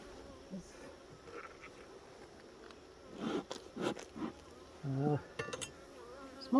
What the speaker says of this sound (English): Oh, I think I upset this bee.